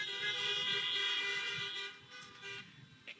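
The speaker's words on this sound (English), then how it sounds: "please honk your horns." Several car horns honk together at an outdoor drive-in high school graduation, a sustained overlapping blare that fades after about two seconds, followed by a few scattered shorter toots.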